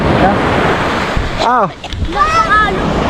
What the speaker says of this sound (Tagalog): medyo malaki ang alon ngayon